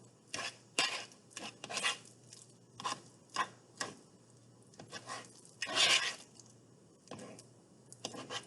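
Vegetables mashed with a fork, a series of irregular close scraping and clinking strokes against a bowl, each short and distinct with quiet gaps between.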